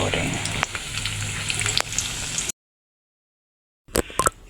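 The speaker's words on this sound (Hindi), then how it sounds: "ये हमारे पकौड़े फ्राई हो रहे हैं।" Potato pakoras crackle and sizzle steadily in hot oil for a couple of seconds, then a silent break is followed by a few short bursts of frying.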